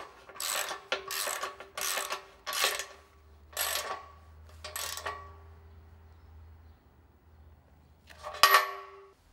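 Ratchet wrench tightening screws on a Twin Busch TW 242 PE B4.3 clear floor car lift assembly, six quick bursts of rapid clicking, a pause with low hum, then a final sharp metallic clank, close and alone.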